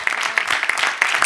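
A church congregation applauds during a Spanish-language sermon, with distinct individual claps scattered across a short, lively burst and no speech over them.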